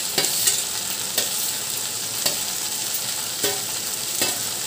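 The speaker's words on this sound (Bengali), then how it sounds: "এখন আমি এই নারকেল আর ঢেঁড়স একসাথে ভেজে নেব।" Grated coconut and okra fry together in a pan, giving a steady sizzle broken by about five evenly spaced stirring scrapes, close and moderately loud with no voices.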